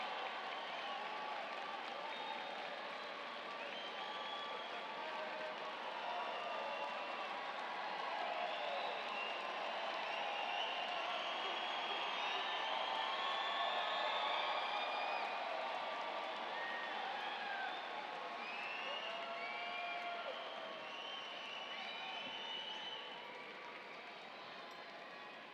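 A large commencement audience applauds graduates at a May 2018 ceremony in a long, fairly distant wash of clapping with crowd murmur and scattered cheers, swelling in the middle and easing off near the end.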